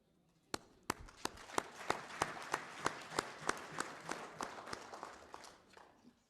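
An audience at the 25th annual meeting of the Council of Traditional Leaders claps, with sharp, regular claps over a swelling patter of applause that builds steadily and then thins out.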